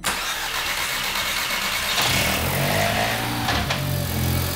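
Audi S3 engine cranking and firing up after a turbo install, a sharp start followed by a rough, loud idle with a brief rev, close to the car and without speech.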